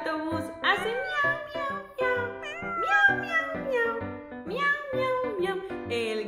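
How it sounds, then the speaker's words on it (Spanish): A cat meowing in a Spanish children's sing-along song, repeated meows over cheerful music, mid-level and steady throughout. "El gato en el autobús hace miau, miau, miau"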